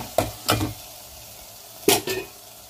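Fresh mint stirred into sizzling mutton bones in a pan: two pairs of sharp scraping stirs about a second and a half apart, each over a soft background of frying sizzle, close by with no talk.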